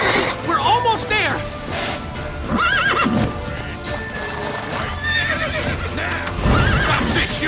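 Horses in The Witcher 3 whinny and neigh repeatedly over clopping hooves and clattering action, with urgent shouted voices throughout.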